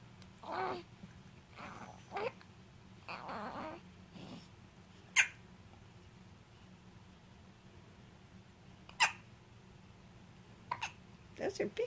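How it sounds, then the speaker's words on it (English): Sharp, isolated hiccups from a baby on a playmat come every few seconds, with a quick cluster at the end, between soft murmurs and babbling in a quiet indoor room. "Those are big hiccups."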